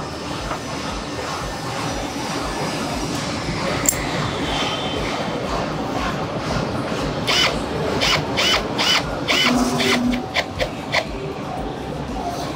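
A Milwaukee crimper tool presses cable lugs, producing a quick run of sharp mechanical clicks and ratchet snaps near the end, set against a steady, noisy background hum.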